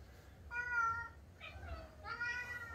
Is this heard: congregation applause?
no